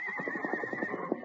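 A horse whinnies as a radio drama sound effect, one long, shaky neigh that carries through the whole moment, close and clear with no talking over it.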